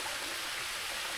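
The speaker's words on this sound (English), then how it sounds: "Now, looks like an actual waterfall." A waterfall on a mountain hiking trail, swollen after rain, roars steadily nearby as a dense, continuous wash of rushing water with no pauses.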